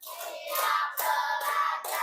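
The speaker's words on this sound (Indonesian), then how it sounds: "Tepuk lima." Children in a class clap hands in a short run of several claps, the bursts close and fairly even, loud enough to fill the space with no voices over them.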